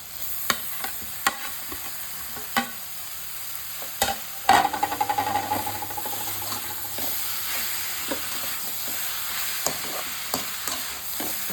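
Tomatoes go into sautéed onion masala for paneer bhurji. A spatula knocks the pan at intervals over a low sizzle, then a louder burst of frying and stirring follows as the tomatoes land.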